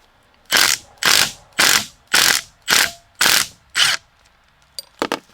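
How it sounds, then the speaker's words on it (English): A ratchet clicks in seven quick, even bursts, each a dry rapid ratcheting, while loosening the rear brake caliper bleeder screw on a B5 Audi S4, followed by a couple of faint metallic taps. "we're going to remove this bleeder screw"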